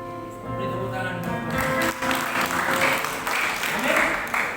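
Church congregation applauding during a Sunday worship service, a swelling wave of clapping rising over lingering organ-like music and continuing steadily to the end.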